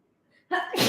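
A single sharp sneeze bursts out close by after a brief quiet intake of breath, loud and abrupt.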